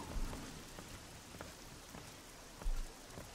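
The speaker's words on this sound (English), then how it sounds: "It's just raining. Oh, I can barely see anything because of the rain." Steady rain falls in the fantasy role-playing game Oblivion at night, a continuous soft hiss with a few louder thumps, no voices.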